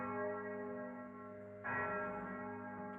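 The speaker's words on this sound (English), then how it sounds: "We then also have Old Major, which is the heaviest bell." Old Major, a five-ton cathedral bell nearly seven feet across in the Lantern Tower, rings with a deep sustained hum, then a fresh loud strike blooms over the lingering tone.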